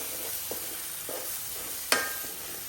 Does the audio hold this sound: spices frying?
yes